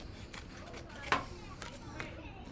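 Scissors snip through paper during a kindergarten shark craft, faint snips and a sharper cut near the middle over low room murmur and distant children's voices.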